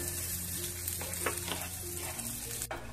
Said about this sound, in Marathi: छान तुपामध्ये आपल्याला हे सर्व परतवून घ्यायचंय